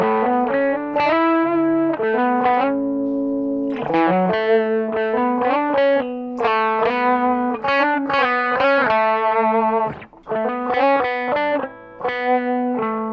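Electric guitar run through the lead channel of a Boss ME-80 with heavy distortion, playing loud sustained chords and lead phrases with brief gaps, saturated and continuous throughout, no voices.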